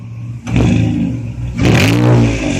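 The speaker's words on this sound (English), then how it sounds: "Give her a little bit of revs." A Saturn L300 engine with a newly fitted intake revs twice in quick bursts, a deep, loud mechanical roar rising and settling close to the microphone.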